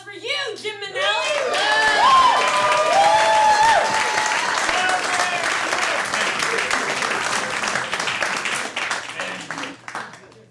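A late-night show audience breaks into loud applause with cheering and a few whoops, swelling quickly and holding strong before thinning out at the end; some voices and shouts ring out within the crowd noise.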